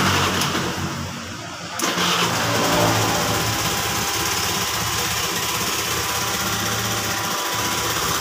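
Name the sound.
Honda Vario motorcycle engine starting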